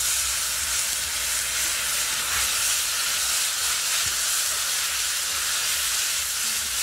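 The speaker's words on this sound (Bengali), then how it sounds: "এবার সামান্য জল দেব।" Water poured into a pan of frying beans and egg sets off a loud, steady sizzling hiss that fills the whole stretch, with no voices.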